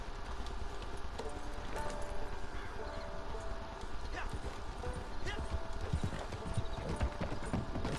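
A horse in the Red Dead video game clip-clops steadily at a walking pace, with the hoofbeats continuous and close, mixed with ambient game noise and a faint whinny, while a person talks over it.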